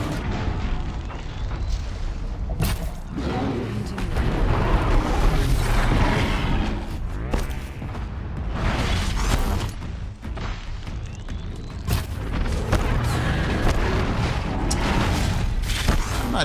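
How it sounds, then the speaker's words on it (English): A disc launcher in the Horizon video game fires off a string of deep booming explosions with crackling bursts, loud and dense across the whole stretch, with some faint talk underneath. "I think that might have been the disc launcher."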